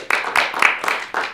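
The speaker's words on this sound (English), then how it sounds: "So clap, clap for you guys" About five sharp hand claps in a quick, slightly uneven rhythm, close and fairly loud, given as applause for school staff and faculty during a meeting.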